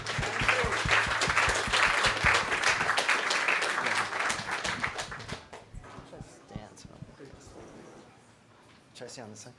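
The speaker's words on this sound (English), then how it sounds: "And everybody give a big clap for Jed." A meetup audience applauds loudly for several seconds, a dense burst of clapping that thins out and fades, with scattered talk continuing afterward.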